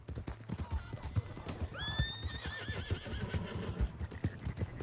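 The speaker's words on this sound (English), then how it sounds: "Hey, that's my horse!" A horse in the Red Dead Redemption 2 video game gives a loud, rising whinny over a steady patter of galloping hooves, close by and with no talk over it.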